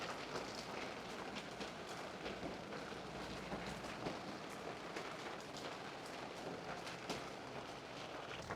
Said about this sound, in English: The rain is officially here